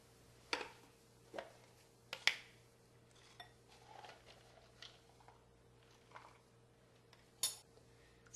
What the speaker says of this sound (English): I'm going to chop them up and put a tablespoon of these in as well